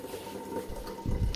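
Water poured into a drinking glass during a home lunch, a soft liquid trickle rising into a louder, fuller gush near the end, close by with no talk.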